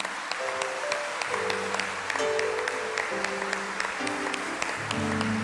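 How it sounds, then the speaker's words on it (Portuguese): A church congregation applauds after a Gospel reading, quick scattered clapping running under sustained organ or keyboard chords that shift through the passage. "Aplauda a palavra do Senhor."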